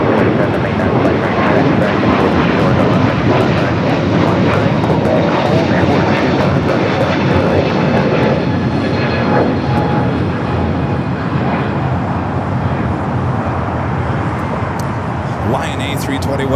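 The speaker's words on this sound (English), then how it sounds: "Now we got that American, I'm sorry, Delta A350 900 heading to Atlanta. Now rolling down at 25 right." A Delta Airbus A350-900 airliner takes off along runway 25 Right at LAX with a loud, continuous jet-engine roar that holds steady throughout, and a voice talks over it.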